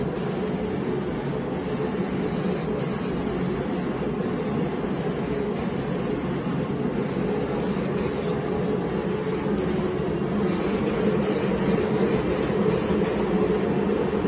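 Spray cans hiss steadily up close as metal flake paint goes onto a car body, a continuous aerosol rush broken by brief pauses and a run of quick short bursts near the end.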